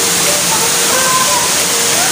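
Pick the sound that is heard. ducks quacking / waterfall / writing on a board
waterfall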